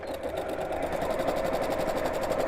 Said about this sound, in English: And then let's sew these together